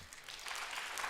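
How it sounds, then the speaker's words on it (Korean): Applause from a church congregation during a sermon, a brief burst of many hands clapping that swells quickly and continues steadily, with no talk over it. "박수 쳐야 될 일이네요."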